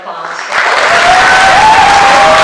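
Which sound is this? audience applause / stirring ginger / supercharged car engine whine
audience applause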